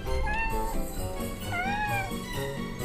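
A cat meows twice in a close, clear room, each call rising and falling, with no other sounds around it.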